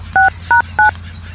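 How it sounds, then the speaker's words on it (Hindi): Three short touch-tone dialing beeps from a phone keypad sound in quick succession, loud and close over a low background hum, with no one speaking. "उनका फोनवा लगाई"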